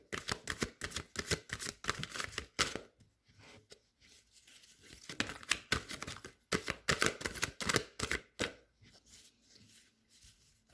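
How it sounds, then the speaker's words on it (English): A deck of tarot cards being shuffled by hand, close and fairly quiet, with bursts of dense papery riffling and flicking clicks separated by brief pauses, with no voices. "as I'm shuffling these cards"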